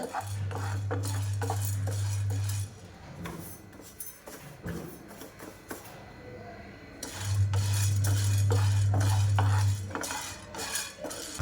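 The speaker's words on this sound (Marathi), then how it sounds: "आपल्याला सतत हलवत अशी ही भाजायची आहे, म्हणजे ही डाळ खमंग अशी भाजली जाईल" A utensil scrapes and stirs dal dry roasting in a pan, with steady clinks and scraping against the metal, broken by two long, low humming stretches from an appliance.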